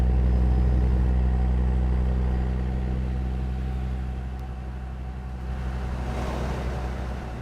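A truck engine in the SCS truck simulator game, fitted with the C16 engine sound mod from Z-Mods, holds a steady, close, low rumble with humming tones that eases slightly partway through, with no talk.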